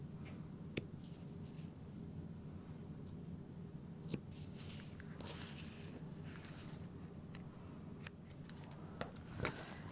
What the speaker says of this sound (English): And then I'll take my scissors to cut into those corners.